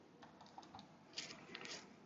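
Fingers tap quickly on a calculator keypad while a geometry problem is entered, making a soft, close run of light clicks at an irregular pace, faint and with no talk.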